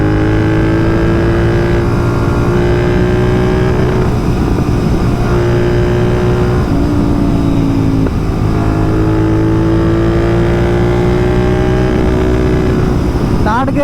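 A Royal Enfield GT 650 motorcycle pulls hard through the gears, its loud, close engine drone rising in pitch, dropping at each shift, then climbing again, with wind noise throughout.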